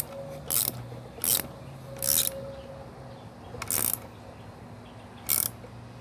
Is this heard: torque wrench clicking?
yes